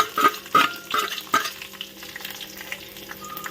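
Mustard seeds, curry leaves and chopped green chilli stirred in hot oil in a pan, with a few sharp spatula scrapes early on over a steady close sizzle that fades into a soft crackle.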